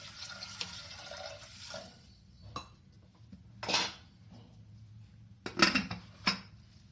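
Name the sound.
water poured into a pressure cooker on the gas stove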